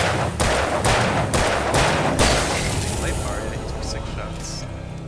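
A rapid burst of heavy gunshots fires in the video game Alan Wake 2, several loud cracking blasts in quick succession that then fade into a lingering echo while a voice speaks.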